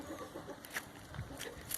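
Hens in a farmyard give a few faint, scattered clucks over a quiet background, with small bursts of activity now and then.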